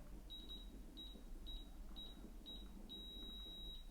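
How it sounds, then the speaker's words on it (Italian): An electronic torque wrench sounds while tightening a LiFePO4 battery box connection to its set torque: short high beeps that start slow, come quicker, then merge into a steady tone, fairly faint over low background hum. "guardate che inizia a suonare un beep lento, poi più frequente, poi fisso"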